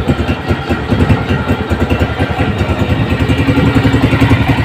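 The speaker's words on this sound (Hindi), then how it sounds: "ये बाइक मैंने स्टार्ट कर दी है, माशाल्लाह बहुत प्यारा साउंड है" A freshly assembled Honda CG 125 motorcycle engine runs at a steady idle after its spark plug was tightened, a loud close rhythmic putter with mechanical clatter and no talking.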